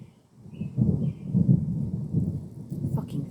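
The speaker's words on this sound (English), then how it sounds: "It's fucking thunder." Thunder rumbling low and continuous on a sunny day, a rolling deep growl swelling and fading over several seconds, moderately loud and distant, no talk.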